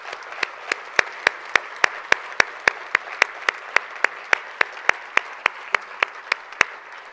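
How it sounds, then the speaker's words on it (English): Warm applause from an audience at an honorary diploma speech, sounding as a steady, evenly spaced run of sharp, crisp claps over a soft bed of clapping, moderately near and without voices. "So let's give her a great warm round of applause."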